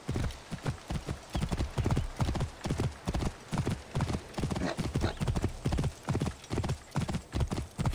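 Horse hooves clip-clop steadily and briskly in the Assassin's Creed Origins video game, a close, continuous rhythmic clatter with no talk over it.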